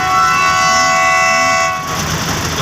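A train horn sounds at a closed railway crossing beside farm fields, a loud steady multi-tone blast held for nearly two seconds before breaking off into rumbling rail noise and wind.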